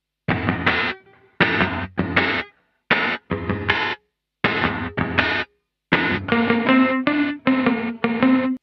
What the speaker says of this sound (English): Dance drums reverb